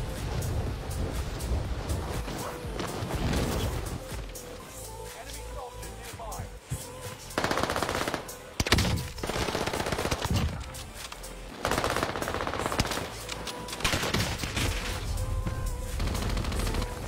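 Video game gunfire, with dense rapid bursts of automatic shots and single cracks repeating through the whole stretch, a voice talking at times over the shooting.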